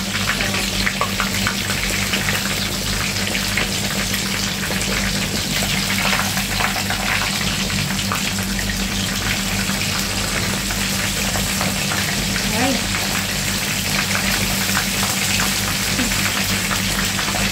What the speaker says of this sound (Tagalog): Kaya natalsikan na yung mantika. Kasi lumabas na yung juicy niya sa loob.